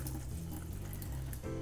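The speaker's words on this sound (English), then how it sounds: "And then pour out the excess water" Washed rice having its excess rinse water poured off while preparing Korean ginseng chicken soup, a steady continuous splashing pour of water heard close and alone.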